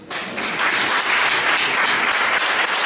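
A church congregation breaks into sustained applause, dense and steady clapping that swells quickly and fills the room for about three seconds with no voices over it.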